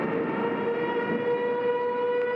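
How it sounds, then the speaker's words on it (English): A civil defense siren wails steadily during a storm, a sustained harmonic tone held loud and unbroken for the whole stretch, with no voices over it. "now the siren's out"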